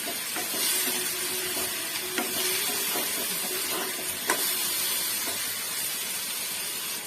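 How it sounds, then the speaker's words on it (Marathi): Tomatoes and coriander fry in a pan for a dry prawn or shrimp and potato dish, giving a steady close sizzle and hiss with a few faint stirring taps and no talk. "आपण याच्यामध्ये टमॅटो टाकून घेऊया थोडीशी कोथिंबीर छान सर्व एक करून फ्राय करून घेऊया"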